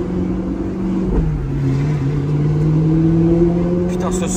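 An Audi R8 engine drones loud and close for the whole stretch with a strong steady pitch that dips and rises slightly as it revs, heard from inside or beside the car.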